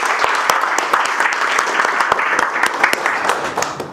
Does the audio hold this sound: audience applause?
yes